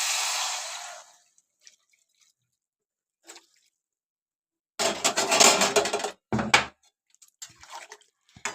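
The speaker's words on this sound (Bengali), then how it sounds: "আর এদিকে আমি একটু গরম জল করে রেখেছিলাম, এই যে একটু গরম জল দিয়ে দেব।" Hot water poured into a pan of potol chingri (pointed gourd and prawn) curry, heard as a wet splashing burst near the start and a louder gush in the middle, with brief drips and clatters between quiet gaps.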